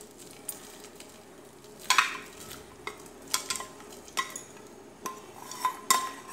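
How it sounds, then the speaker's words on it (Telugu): Grated paneer is added to simmering payasam in a pan, with faint bubbling and repeated sharp clinks and scrapes of a spoon stirring against the vessel at irregular intervals. "పన్నీర్ వేసుకుంటున్నానండి గ్రేట్ చేసుకున్న పన్నీర్"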